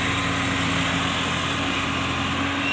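A tractor engine hauling a loaded stone trolley through deep mud holds a steady, droning, close labouring note without pause, and no one talks over it.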